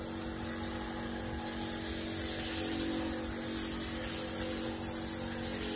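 Steady whooshing hiss of a sprayer applying Armure fungicide over a rice field in Barangay San Juan, a continuous spraying and pump noise throughout.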